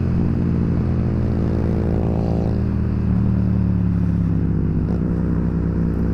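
A Yamaha FZ07 motorcycle engine drones loudly and continuously while riding, a steady low rumble mixed with wind noise that holds even for about six seconds.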